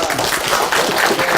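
An audience claps after a two-hour history lecture by a professor, a dense, loud burst of applause filling the short moment with no gaps.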